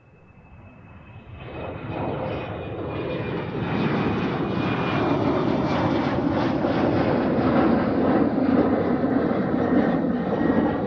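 Embraer jet aircraft at Amsterdam Schiphol Airport, a loud sustained engine roar that swells over the first few seconds and holds steady, with no talk.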